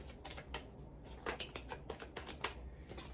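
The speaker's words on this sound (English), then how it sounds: "This deck is really hard to shuffle" Tarot deck being shuffled by hand, a stiff deck giving quick, close, quiet riffling clicks and slaps in irregular bursts with no talking.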